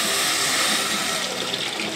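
A litre of vegetable stock is poured into a pan for red lentil dahl, giving a steady, dense gush of liquid that stays close and even for the full two seconds, with no talking.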